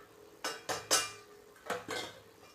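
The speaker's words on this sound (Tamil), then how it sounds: "மசாலாவெல்லாம் சேர்த்து ஒரு கிண்டுவோம்." Masala being stirred in a cooking pan for homemade egg gravy, a handful of sharp metallic scrapes and clinks of a spoon against the pan in an uneven rhythm, close and clear with no talk.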